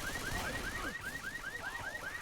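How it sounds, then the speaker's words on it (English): A car alarm going off in a video game match, repeating rising whoops at an even, rapid pace, moderately loud and continuous with no talk over it. "Car alarm set off."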